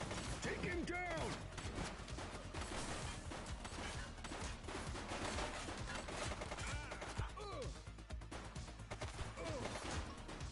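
Gunfire in a police video game crackles through a loud, busy soundscape, with sharp repeated shots and clattering mechanical noise throughout, while voices call out over the action.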